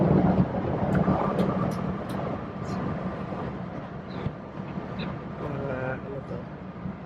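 A train in South Korea rumbles steadily along the rails past rice fields, with a continuous rolling drone, occasional clicks and a faint whine over the ride.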